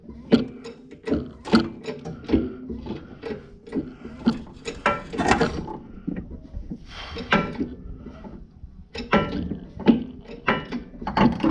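A hand ratchet clicks in bursts of short rapid strokes while loosening motor mounts during a Cummins engine swap, with occasional metallic clunks between sets, close and without talk.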